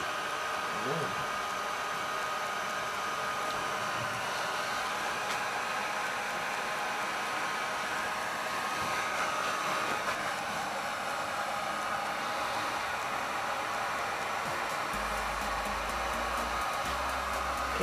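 A heat gun blows steadily while epoxy cures on a rock-faced edge sink, a constant airy hiss that runs unbroken for the whole stretch at moderate loudness, with faint background sounds but no clear talk.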